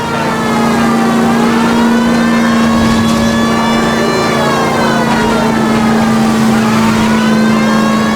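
A stolen green Kaiser Fraser chased through the streets in L.A. Noire, a car engine roaring at steady high revs with a siren-like tonal wail over it, loud and continuous.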